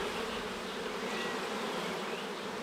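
Honey bees buzzing inside an open Ukrainian-Alpine style hive while frames are inspected in spring, a dense continuous droning hum, close and steady throughout with no talk.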